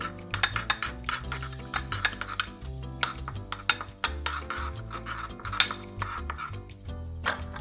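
A utensil mixes ponzu sauce and bonito flakes in a bowl, giving quick, irregular clinks and scrapes against the dish, close and moderately loud.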